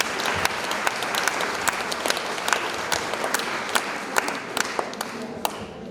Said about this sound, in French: Enfin, moi je vous applaudis.